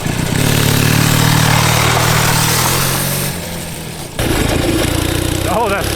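A junkyard-built twin-cylinder four-speed mini bike engine runs loud and close, holding a steady drone, dipping briefly as gears are shifted, then picking back up under load.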